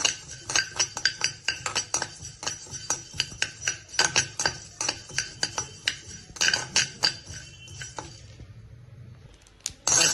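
Fish pickle masala lightly fried and stirred in a pan, with a dense run of sharp metallic scrapes and clinks from a utensil against the pan, steady and close, fading near the end.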